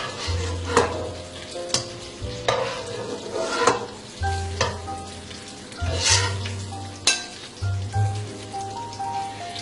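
Prawns fried over full flame with garlic and ginger sizzle steadily in the pan. Several sharp scrapes and clinks of a spoon sound as they are stirred and scooped out into a bowl.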